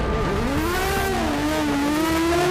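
An Aston Martin Vulcan race car accelerates hard, its engine note climbing through the revs, loud and steady, heard from a distance up the road, with no talk.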